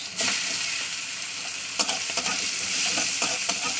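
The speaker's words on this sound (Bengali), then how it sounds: "চলুন পেঁয়াজটা লাল করে ভাজতে হবে" A whole onion fries in hot oil in a home kitchen pan, a steady bright sizzle with occasional stirring scrapes and clinks, close and continuous with no talk.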